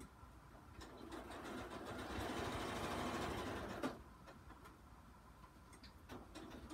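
A sewing machine runs a straight stitch through a paper playing card, its motor buzzing in a quiet, steady rapid patter for a couple of seconds, with soft clicks and handling sounds before and after.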